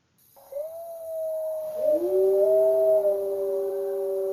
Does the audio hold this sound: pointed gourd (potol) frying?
no